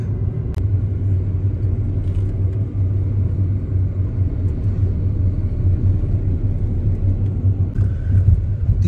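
A car drives across the Teesta Barrage on a badly potholed road in West Bengal, with a steady low engine and road rumble throughout and occasional light knocks from the rough surface.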